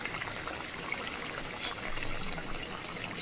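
A little water poured into a pot of dried-fish curry: a steady, soft trickling splash runs throughout, fairly close and moderately quiet, with no talking over it.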